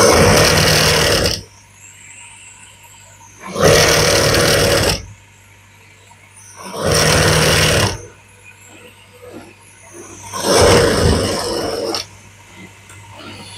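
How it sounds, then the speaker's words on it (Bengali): Sewing machine stitching a double blouse, running in four loud bursts of about one to two seconds each, separated by quiet pauses with a low steady hum. "তারপর সেম হাতার মতন আমি আবার একটা চাপ সেলাই দেবো উপরে।"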